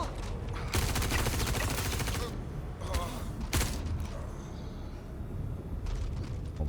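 Bursts of rapid gunfire in the video game Star Citizen, loud rattling volleys broken by short pauses, with heavier booming shots and a low rumbling background.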